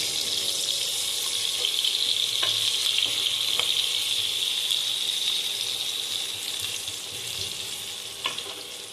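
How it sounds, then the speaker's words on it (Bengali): Onions frying steadily in hot oil until browned for beresta, a continuous dense sizzle with a few faint clinks of a stirring utensil against the pan. "সেরকমভাবে আমি এই পেঁয়াজগুলোকে প্রপারলি ভেজে নেব"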